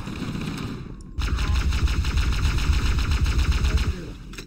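Rapid automatic gunfire rattles in the video game Halo: Combat Evolved, a dense, loud burst of shots beginning about a second in and hammering steadily for nearly three seconds.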